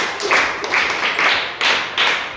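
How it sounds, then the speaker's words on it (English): Audience clapping at a live podcast show, several bursts of hand claps in quick succession at moderate volume, with no voices over them. "All right, clap for yourselves."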